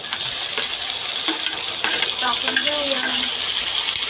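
Chopped tomatoes are stirred in a hot frying pan, giving a continuous sizzle with light scraping and clinking from a utensil, close by, and soft voices now and then.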